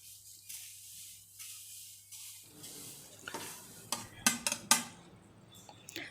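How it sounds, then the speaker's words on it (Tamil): Vermicelli is stirred into boiling water in a pot over a low flame for egg semiya, with soft scraping stirs and a few sharp clinks of a utensil against the pot, faint and close. "சேமியாவை கொஞ்சம் கொஞ்சமாக சேர்த்து நல்லா கலந்து விட்டுக்கோங்க"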